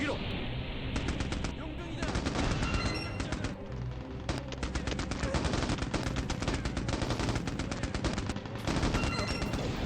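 Rapid bursts from a .50 cal machine gun in the war game Mercenaries: Playground of Destruction, loud sustained fire with brief gaps, layered with game effects and no voices.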